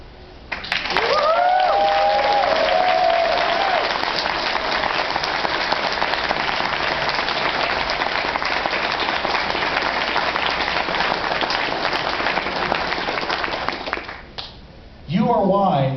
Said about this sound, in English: I want to hear the biggest round of applause of all